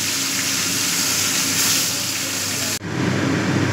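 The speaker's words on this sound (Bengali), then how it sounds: "এখন মাছগুলো ভেজে নিচ্ছি।" Fish frying in hot oil, a steady loud hiss and crackle close by that cuts off sharply near the end, then resumes.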